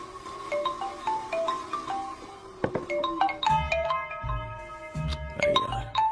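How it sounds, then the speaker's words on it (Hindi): A phone ringtone plays for an incoming call, a repeating electronic melody of bright chiming notes with soft low thumps beneath. "अरे यार, ये अभी क्यों फोन लगा रहा है?"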